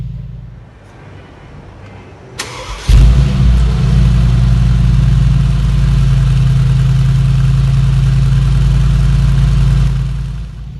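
A 4.0-litre twin-turbo V8 in a 2018 Mercedes-AMG G63 Edition 1 bursts to life after a quiet moment, then settles into a loud, deep, steady rumble that holds close and continuous.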